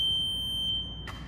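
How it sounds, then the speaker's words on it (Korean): An S12 ride-on wet floor scrubber sounds its reverse alarm, a steady high-pitched electronic beep tone that holds and then cuts off, over a low machine hum. "뒤쪽으로 내리면 후진 알람과 함께 후진이 됩니다."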